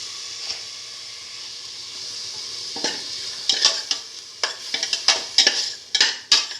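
Beef pieces stirred through a sizzling eggplant mixture in a pan, steady frying hiss building into a run of scraping stirs that grow louder and more frequent toward the end, close and alone.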